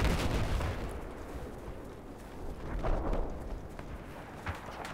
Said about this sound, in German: Ja, jetzt schießen sie hier auf uns.